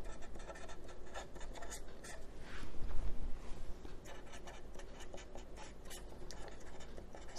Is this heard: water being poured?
no